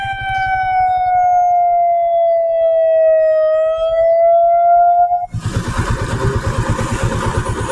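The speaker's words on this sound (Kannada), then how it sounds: "ಆಂಬ್ಯುಲೆನ್ಸ್ ಅಲ್ಲಿ ಅವರೇ ಆಗಿರ್ಬೇಕು ಅನ್ಸುತ್ತೆ ಬಂದಿದ್ದು." An ambulance siren wails loud and close for several seconds, sweeping slowly in pitch on a forest road near an accident scene, then cuts off abruptly into rushing wind and motorbike engine noise.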